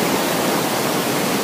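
Panikhai waterfall in Nayagarh gives off a dense, unbroken hiss of falling water, loud and steady with no pauses and nothing else over it.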